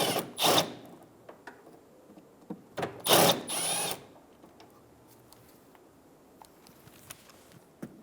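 Power tool buzzing in two short bursts as a 10mm bumper bracket bolt comes out on a 2007-2011 Toyota Camry, followed by quieter handling clicks.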